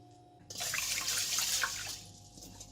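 Tap water runs into a pot as rice is rinsed before cooking rice porridge. A steady splashing flow starts suddenly, lasts about a second and a half, then fades, fairly close and alone.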